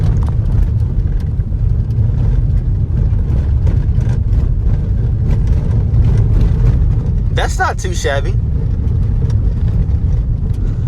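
Road noise inside a 2015 Ford Flex SE rolling along a gravel road, a loud constant low rumble with crunchy texture throughout, while someone talks briefly over it.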